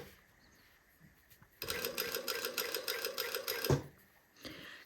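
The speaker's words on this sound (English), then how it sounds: "now we're just going to sew this in place, going very slowly around these corners." A sewing machine stitches piping onto fabric, running in a steady close burst of rapid needle strokes for about two seconds after a quiet start, slowing as it turns a tight corner, then stopping with a short clunk.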